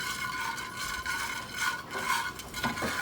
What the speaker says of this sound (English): I'm going to add here and saute this around for just a minute.